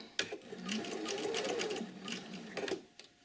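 A sewing machine runs in short bursts, making small stitches along a slanted line on a welt pocket, with a rapid rhythmic needle clatter close by that starts, pauses briefly and then picks up again.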